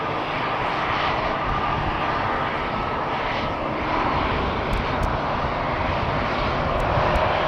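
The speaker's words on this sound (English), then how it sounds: "obviously this EasyJet will take off before it." EasyJet airliner taking off at Amsterdam Schiphol Airport, a loud, steady, broadband jet roar that holds constant throughout without pause, with no talk over it.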